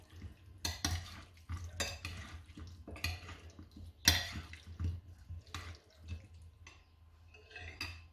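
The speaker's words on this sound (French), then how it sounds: "Et là, je vais tout mélanger doucement." Gentle stirring and mixing of moussaka ingredients with a utensil in a dish, soft repeated scraping and clinking strokes at close range, no talking.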